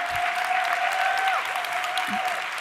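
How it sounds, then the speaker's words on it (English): An audience at a Design Your Second Act event claps steadily for a speaker being introduced, with a thick, even wash of applause. "y'all clap for her"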